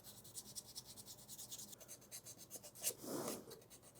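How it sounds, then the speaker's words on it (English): Someone hand-sands a wooden Nazgul sword prop coated with Mod Podge, making quiet rhythmic scratchy rubbing strokes close by, soft and repetitive with one slightly louder scrape near the end. "just sanding the Mod Podge down"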